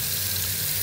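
Tap water runs steadily down a sink drain just treated with Harpic Drain Xpert, a continuous loud hiss and rush that stays level throughout.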